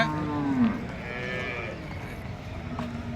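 A cow lows once with a loud, falling moo at a busy cattle market in Erode, followed by fainter distant mooing and crowd murmur across the open market grounds.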